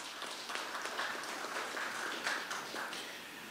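A hall audience at a gathering of retired Petrotrin workers in Point Fortin claps in a round of applause for the borough. The clapping is steady and moderately loud, with no voices.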